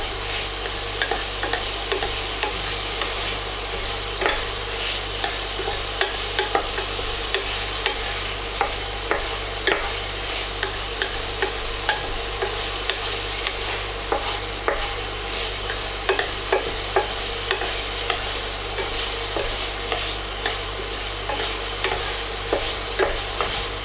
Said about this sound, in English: I'm going to cook this for about 5 minutes until it's sort of browned off and softens.